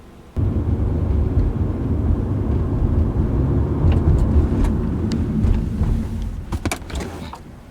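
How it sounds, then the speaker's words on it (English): A car's steady close engine and road rumble runs through a simulated hard braking event, easing off toward the end with a few brief clicks and knocks. "Now we will simulate a hard braking event so you can see how it will appear on your timeline."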